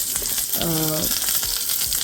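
Mustard seeds, onion, green chillies and dried red chillies tempering in hot coconut oil, a steady close sizzle and crackle with a brief tonal clatter in the middle.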